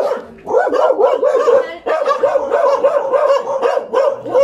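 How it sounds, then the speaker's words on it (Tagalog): Two dogs bark and yip excitedly in rapid overlapping bursts at a pet vaccination station, close and loud, with a brief pause midway before the barking resumes. "Ay, ito yun, dalawang aso."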